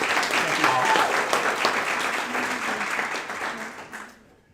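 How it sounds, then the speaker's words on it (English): Crowd applause for graduates at a ceremony, a steady dense patter of clapping that holds for about four seconds before fading out at the end. "So another big round of applause for these folks."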